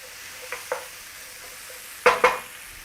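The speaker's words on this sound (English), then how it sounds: "Start to break your mince up in there, then cook that with your tomatoes and onion." Beef mince fries with tomatoes and onion in a pan under a faint, low sizzle, while a spatula clacks against the pan twice early and twice more, louder, near the end.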